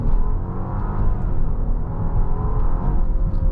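A 2025 Genesis GV80 3.5T SUV accelerates, its engine giving a steady, full-bodied rumble and whir from inside the cabin that holds strong for the whole stretch.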